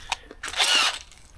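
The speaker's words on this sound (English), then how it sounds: "Couple more drilling operations to go." A power drill runs during a performance brake job on a Range Rover L405, with a short tap and then one close, loud burst of whining drilling lasting about half a second before cutting off.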